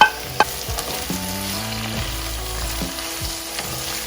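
Celery and green chilies stir-fried in a pan: a constant loud sizzle broken by scraping clatters from stirring, with no voices.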